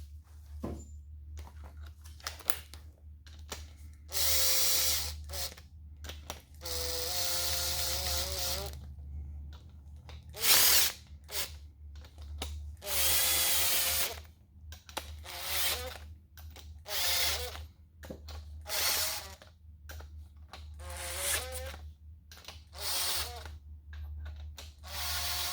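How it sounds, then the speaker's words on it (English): A power drill whirs in repeated bursts during a Toyota 4AGE engine rebuild, each run lasting a few seconds with short pauses between, close and prominent in a quiet workshop. "Found my drill."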